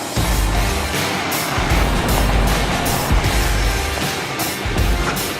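A 2017 Ford Ranger truck's engine runs steadily while climbing an extreme grade, a loud, continuous low rumble with faint surging swells and no voices.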